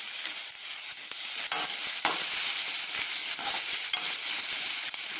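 Onion and beetroot sautéing in a pan, a steady bright hiss of oil frying with light stirring scrapes running through, continuous and close with no talking.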